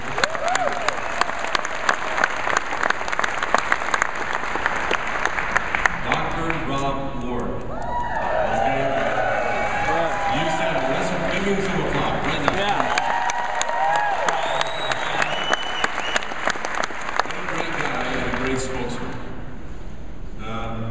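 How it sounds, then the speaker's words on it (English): A crowd claps loudly and steadily throughout, with cheering and voices talking over the applause in the middle. "Could you give him some applause?"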